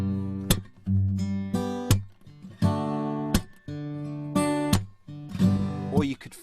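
Acoustic guitar chords strummed in a folk-blues song, each ringing briefly before being muted dead, repeated in a loose, choppy rhythm, close and loud with no talking.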